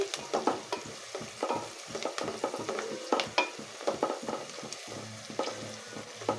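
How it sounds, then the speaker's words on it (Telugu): Onions frying in a pan for chicken curry, with a steady sizzle broken by frequent scraping stirs of a spatula close by; no talking. "ఆనియన్ అయితే బాగా ఫ్రై చేసుకోవాలండి"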